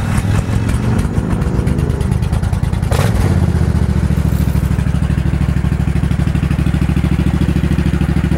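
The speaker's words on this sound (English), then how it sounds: "Pull that clutch in and I'll crank it up for you." Suzuki Intruder 1500 cruiser motorcycle with 47,000 miles being started with the choke out: a few seconds of cranking, then the engine catches and settles into a loud, steady, close idle.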